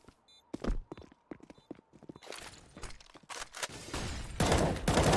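Counter-Strike match gunfire with a flashbang: rapid clusters of sharp shots and footsteps, building into dense, loud bursts near the end.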